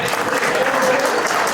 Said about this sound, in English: So clap if you're a white dude that owns property.